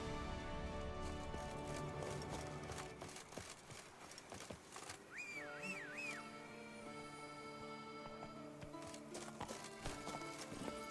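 Roach, the horse in Witcher 3, gallops in a rapid, rhythmic run of hoofbeats close by, with a short whinny partway through and game music or ambience underneath.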